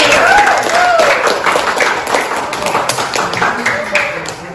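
Classroom applause for the first student group presenting in a mathematics teaching session, a steady wash of many hands clapping close by, mixed with crowd noise and some talk.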